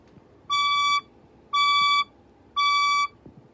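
Three evenly spaced electronic beeps from a fire alarm sound crisply against quiet room noise, each about half a second long with a half-second pause between them.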